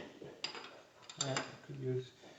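Wrench tightening coilover bolts on a 2004 Subaru with gravel rally suspension, a few close metallic clicks and ratcheting clacks in short irregular bursts.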